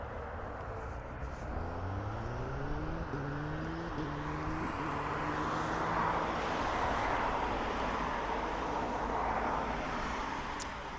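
An aircraft at Dublin Airport during a livestream, a broad steady engine roar with a rising then shifting tonal whine, fairly distant and sustained throughout with no talk.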